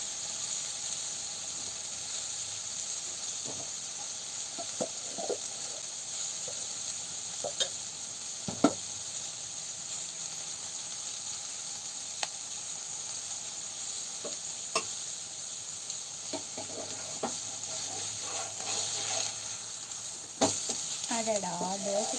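A tomato rava dosa sizzles and hisses steadily on a hot pan during a live cooking session, with faint scraping and stirring clicks over the continuous frying hiss and no talk.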